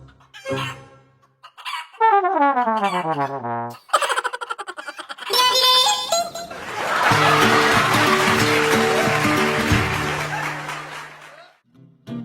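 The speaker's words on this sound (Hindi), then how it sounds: "और मुर्गी एक बार फिर बचकर निकल जाती है।" A chicken clucks and squawks loudly in a noisy chase, with crashing, scuffling commotion and voices mixed in.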